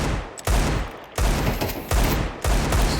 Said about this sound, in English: Stray bullets spam through the smoke, nothing found.